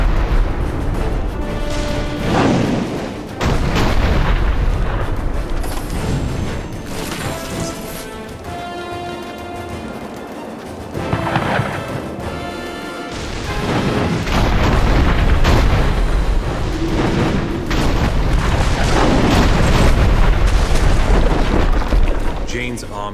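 Artillery fire from Azonite gunners in the Dungeon Siege 3 video game: repeated heavy booms and crashing impacts rolling one after another, loud and close, over dense battle noise and music with voices speaking.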